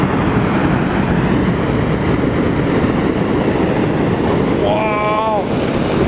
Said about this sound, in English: a piece of the glacier actually broke off